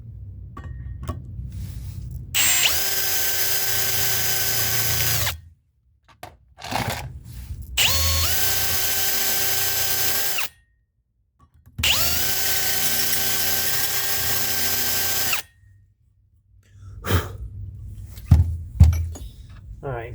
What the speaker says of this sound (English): the next thing that we will need from this kit is the chamfer tool